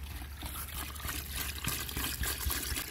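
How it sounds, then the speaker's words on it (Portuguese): Water is poured from a jug into a hand-crank washing machine while camping in a Kombi van, a gurgling, splashing stream that runs unevenly and steadily for a few seconds, with no voices. "Ela tem uma conexão aqui do lado para abastecer com o mangueiro, mas como a gente está longe da torneira, está sendo assim, de galão."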